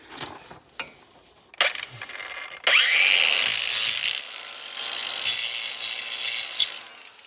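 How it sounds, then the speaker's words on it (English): An angle grinder lightly touching up the rough edges of old steel flail mower blades, with short bursts of harsh grinding and scraping separated by pauses and a few metallic clinks, loud and close. "go ahead and very lightly touch up the edges of the old blades with the angle grinder"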